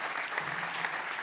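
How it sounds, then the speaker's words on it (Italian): A hall full of guests at a football gala applauds the Arzignano team, dense even clapping at moderate volume filling the whole brief moment. "Un applauso anche all'Arzignano,"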